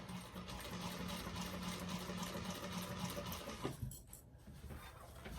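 A sewing machine stitches steadily along the piping around a bag's bottom panel, a continuous mechanical whirr that pauses briefly near the end before running on.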